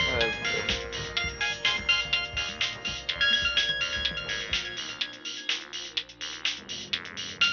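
A mobile phone ringtone plays a bright, rhythmic electronic melody with repeating pulses, fairly loud and continuous through the scene of a Bengali TV serial.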